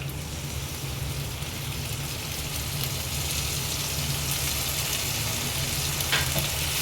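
Dried red chilli and asafoetida dissolved in water hit hot oil in a frying pan, giving a steady, dense sizzle that stays loud and close throughout, with no voices.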